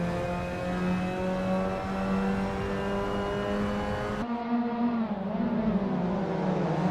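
A pack of Mazda MX5 Cup race cars in the Assetto Corsa racing game pull away together from a standing start at Laguna Seca, a steady layered engine drone that rises through the gears, with a gearshift-like drop partway through.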